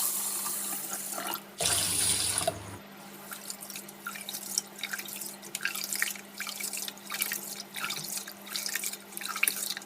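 Black kavuni rice is rinsed under running water: a brief gush from the tap, then repeated splashing and sloshing as the grains are swirled by hand, close and fairly soft.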